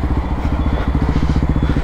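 A motorcycle fitted with 14/36 sprocket gearing runs close by, its engine throbbing in a fast, steady, loud pulse with no speech over it.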